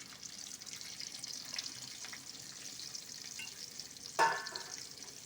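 Onions frying in hot oil for a tempering gives a soft, even hiss throughout, with one brief metallic clink near the end.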